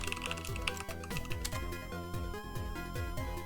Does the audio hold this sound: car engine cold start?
no